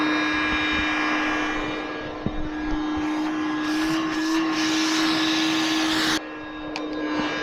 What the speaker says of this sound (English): so now our shop vac should be live now